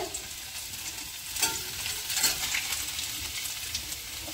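Chopped ginger and garlic frying in hot oil for chilli chicken, a steady hissing sizzle with brief stirring scrapes and a louder burst midway, no talking.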